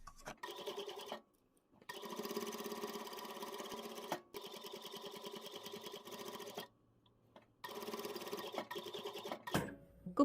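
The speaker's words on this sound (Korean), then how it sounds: "다시 한 번 더 여기 테두리를 쭉 박아주시면" A sewing machine stitches along the edge of a ribbed-cuff jumper in several bursts of rapid, even mechanical whirring, separated by short pauses, close and alone.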